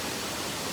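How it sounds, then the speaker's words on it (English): A small waterfall after rain gives off a steady, even broadband rush of falling water, continuous and moderately loud through the short moment. "now this little waterfall is here"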